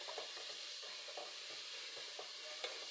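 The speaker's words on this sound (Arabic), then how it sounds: "نقلب بالباهي بالباهي هكايا" Food is stirred in a pan, with soft, regular scraping strokes about every third of a second over a low, continuous sizzle. The sound is close and quiet, with no voices.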